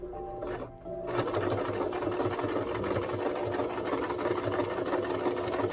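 A sewing machine stitches holiday plate mats, starting after a short pause and then running in a steady, rapid mechanical whir of needle strokes, close and continuous.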